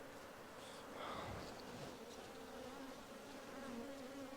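A honeybee colony in a hive with drones present gives a continuous close buzzing drone that holds steady throughout and swells slightly at moments.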